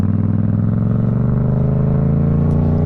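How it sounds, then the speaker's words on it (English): A big truck rumbles past with a steady, loud low-pitched drone and some clatter, heard close up against the steady engine of a Yamaha MT-07 motorcycle being ridden. "That's a big old truck."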